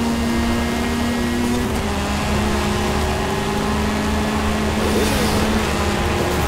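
A motorcycle engine in the racing game Forza Horizon 5 drones steadily at mid pitch with a sustained tone that shifts slightly, loud and continuous with a dense noisy background.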